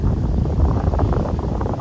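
Strong, cold wind buffeting the microphone in a constant low roar at a lakeside camp near Pawna Lake, Lonavala, loud and steady with no other sounds standing out.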